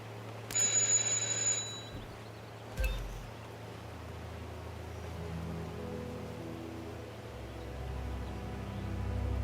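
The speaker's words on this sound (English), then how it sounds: "just ring the doorbell" A doorbell rings in Hitman 2, a bright chiming ring at the start followed by a second short ring, then quiet ambient room tone.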